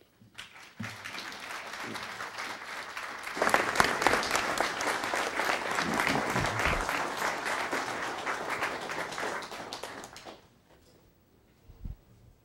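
An audience at the Dole Institute of Politics bursts into warm applause to welcome a speaker, a few early claps swelling into steady, full clapping for several seconds before fading out.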